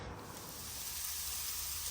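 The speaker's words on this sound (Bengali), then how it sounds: "ব্রোকলি ভাজি করতেছি" Broccoli frying in a pan at home, giving a steady, even sizzle and hiss that runs unbroken throughout, moderately close, with no voices.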